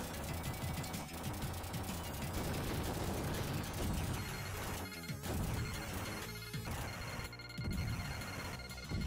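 Dense, continuous arcade gunfire and crashing impacts fill the scene, with nobody talking, as vents are shot on the Genesis version of Terminator 2: The Arcade Game.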